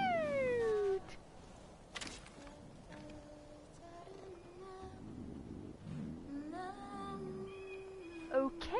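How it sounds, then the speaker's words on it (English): A cat in the Far Cry 5 video game meows in a few drawn-out, rising calls, with a loud one at the start and others scattered over a quiet background. "Come here, good kitty."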